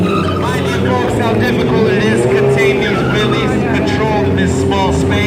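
Motorcycle engine revving hard during wheelie stunts in a tight arena at the Long Beach Grand Prix, with rising and falling rev sweeps close by under crowd and announcer noise.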